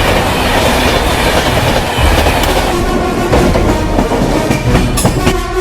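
Humsafar Express train 22888 running on rails, a steady loud rumble of wagons with rhythmic clickety-clack of wheels over rail joints throughout, close and continuous with no talk.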